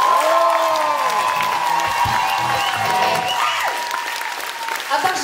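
A concert audience at an open-air venue breaks into loud, sustained clapping with some cheers, while a voice sings or calls over it before the applause slowly fades.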